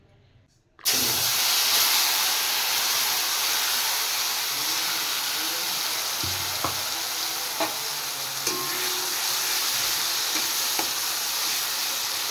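Raw banana paste drops into a hot wok and a sudden loud, continuous sizzle starts after near silence, with occasional light clicks of stirring.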